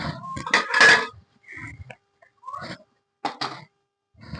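Ghee-fried dry fruits tipped into a pot of kheer, giving several close metallic clinks and scrapes of a spoon against the pot, separated by short pauses.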